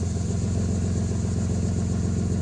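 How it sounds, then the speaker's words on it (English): A loud truck idles nearby and pulls away, a steady low rumbling engine with a throbbing pulse that holds throughout, heard outdoors at a park. "Excuse this loud truck that"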